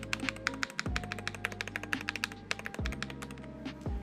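SteelSeries Apex Pro TKL mechanical keyboard typed on right next to the microphone: loud, steady rapid key clacks with a few deeper bottoming-out thunks, alone without speech.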